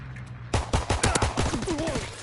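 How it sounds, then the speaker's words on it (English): Strafing-run gunfire in a PS4 online shooter: a rapid volley of loud, close cracks and bursts erupting together and rattling on for about two seconds, with a brief whistling tone near the end. "Strafing run inbound."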